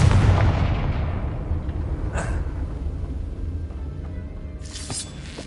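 Heavy explosive blasts from the Confringo blasting spell in a Harry Potter video game, starting as a loud, booming burst that rumbles and slowly fades, with a sharper crack partway through and another burst near the end.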